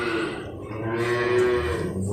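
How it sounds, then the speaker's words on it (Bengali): A large cow gives a single long, drawn-out moo, loud and close, with a steady tonal pitch and no talking over it. "বড় বড় গরু"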